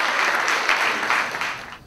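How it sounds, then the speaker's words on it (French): An audience applauds at a Haitian quiz session, a dense burst of clapping that holds steady and then fades out near the end. "Applaudissez, s'il vous plaît."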